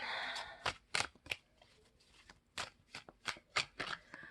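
A tarot deck for a general energy reading being shuffled, with a dozen or so sharp riffles and taps in irregular bursts, close and fairly quiet, with soft rustling between them.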